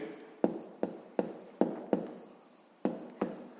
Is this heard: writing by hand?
yes